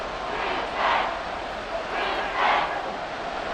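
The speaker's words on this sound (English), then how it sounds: "Well, this crowd into it now." Stadium crowd in Madden 24, a Broncos vs Buccaneers NFL game, giving a broad steady roar with two swelling cheers rising and falling in the middle distance.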